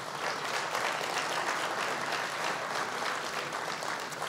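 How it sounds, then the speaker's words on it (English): Steady, dense applause from a gala audience at a 25th anniversary celebration, loud and sustained throughout with no voices over it. "let's give them a round of applause"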